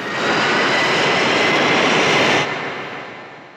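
Steady airliner engine roar during flight, a loud broadband cabin drone that holds level and then eases slightly toward the end, with no voices.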